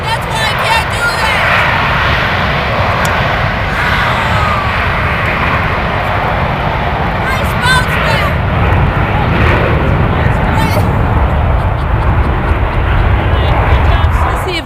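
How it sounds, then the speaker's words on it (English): A fixed-wing airplane drones overhead above a golf course, a steady, loud engine roar filling the whole stretch with slight swells, while people talk and murmur over it. "And there goes the plane. There's the plane."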